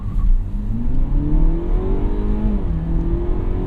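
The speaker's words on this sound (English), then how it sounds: "Will it do a burnout? Yeah, you know what? I bet it will." A 2017 Cadillac CT6 2.0L turbo engine revs hard and steadily during a burnout attempt, pitch rising then dipping slightly, loud and close with no talking.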